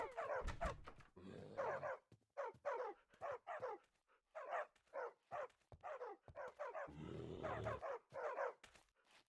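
Dog barking in the Minecraft FTB Revelation modpack, a string of short, separate game barks and yelps with brief gaps between them, clear and up front, no talking over them.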